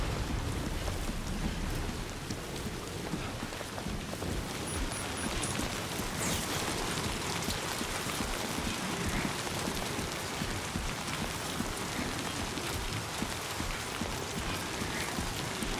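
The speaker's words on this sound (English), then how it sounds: "Rain in the console." Steady rain from a Death Stranding-style game controller speaker, a dense even hiss of falling drops with a low rumble like distant thunder, continuous and moderately loud.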